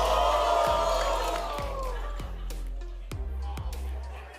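A crowd at a Valorant Champions Tour Americas Grand Finals watch party for G2 versus LEV cheers and shouts in a steady, dense roar that swells and fades. Commentators talk over the noise.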